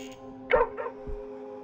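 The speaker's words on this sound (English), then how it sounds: "Stop barking, I told Father I left you in the woods." A dog barks and yips a couple of times in the horror video game Moth Lake, short and fairly close, with no talking over it.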